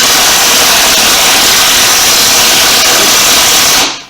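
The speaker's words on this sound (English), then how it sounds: "the 8-volt impact driver is just not strong enough" An 8-volt impact driver runs loud and close on a motorcycle fuel tank, a continuous harsh whirring buzz that holds steady for about four seconds and then cuts off abruptly.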